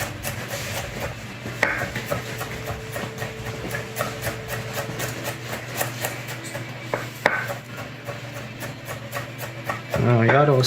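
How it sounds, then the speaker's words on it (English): Garlic being finely chopped with a knife on a board, a quick, steady run of close, crisp taps that carries on throughout with a few louder knocks, and no talking. "So I am going to finely chop them and have little bits and pieces of that"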